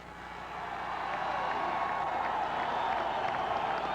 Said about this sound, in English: give them the round of applause